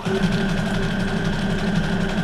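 A Brother SQ9185 sewing machine running steadily, a loud close motor hum with a constant even drone and faint rhythmic stitching vibration, no pauses and no talk.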